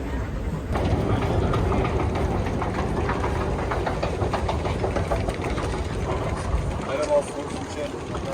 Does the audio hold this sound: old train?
yes